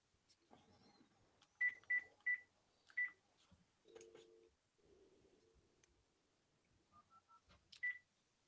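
Phone tones dialing a broadband provider's number: a run of sharp, evenly spaced beeps, then a lower pulsing tone and a few shorter beeps, fairly close and clear with faint background murmur.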